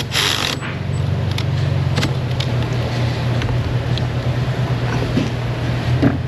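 A turbocharged car engine holds a steady, loud idle, with a brief throttle blip near the start and small rattles and clicks from the open engine bay.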